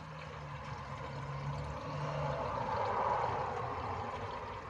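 Plain tap water pours steadily into the coolant system of a 1986 Ford F-150 during a flush, a continuous rushing, gurgling stream that swells slightly toward the end, heard alone at close range.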